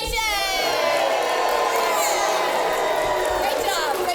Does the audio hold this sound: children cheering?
yes